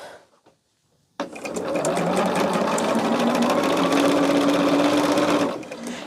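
A sewing machine stitches quilt rows together, starting abruptly after a quiet pause and running as a steady, loud, close mechanical whir for several seconds before easing off.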